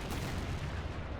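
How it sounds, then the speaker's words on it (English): Artillery fire in a WW1 video game rumbles as a dense, continuous low roar of distant booms, heavy and sustained over the short stretch. "with the artillery going and the distant explosions"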